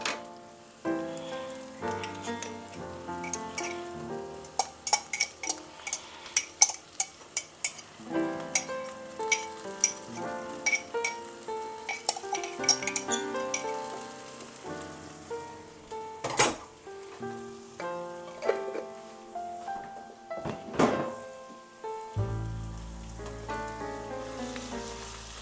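Canned stewed meat landing in a pan of onions browning in oil, with busy close sizzling, spatter and stirring scrapes in uneven bursts, and no talk.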